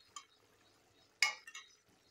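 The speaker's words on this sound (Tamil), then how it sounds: "இப்படி எல்லா ஃபிஷ்ஷையும் பொறுமையாக திருப்பி போட்டுக்கோங்க." Fish pieces for fish puli gravy get turned in a pan, giving a few soft clinks and scrapes of the utensil against the pan over a faint sizzle, sparse and quiet.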